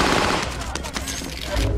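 Automatic gunfire in a battle royale video game, a dense continuous burst of shots filling the whole moment, loud and close.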